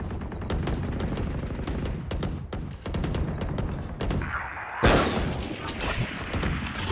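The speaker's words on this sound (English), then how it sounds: "Grenade out." A grenade detonates amid rapid gunfire in a shooter video game, with dense bursts of shots throughout and a sharp, louder blast near the middle.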